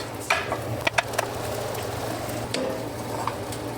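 Fried rice and eggs sizzling in a wok, a steady frying hiss broken by several sharp scrapes and clacks of a utensil stirring against the pan.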